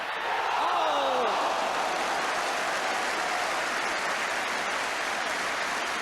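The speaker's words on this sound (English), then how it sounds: "Warm applause for Paul Moran" A football crowd at Spurs v West Ham United applauds a fine run, a broad sustained roar of clapping from a distant stadium audience, steady throughout, with a commentator's voice briefly heard over it.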